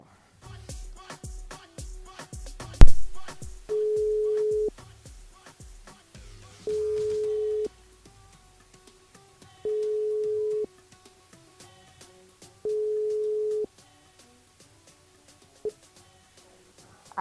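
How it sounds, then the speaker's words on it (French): A phone line rings out as a radio host places a call to a listener: steady, evenly spaced electronic ring tones, four long pulses separated by pauses, after brief clicking of dialing. "Tatane appelle Suzy sur le standard"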